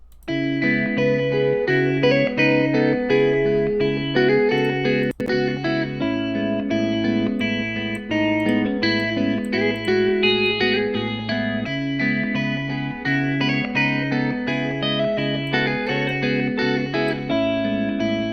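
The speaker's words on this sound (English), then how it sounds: "I've got a guitar that's a lot more chill." A mellow, chill electric guitar riff run through effects processing, with a steady repeating bass-line pattern and sustained chords, loud and continuous with no talking.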